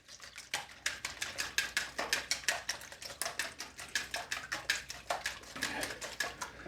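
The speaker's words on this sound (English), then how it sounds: "4 eggs, want to give them a whisk." Four eggs being whisked by hand in a bowl, a fast steady clatter of rhythmic taps and scrapes, close and fairly quiet, with no talking.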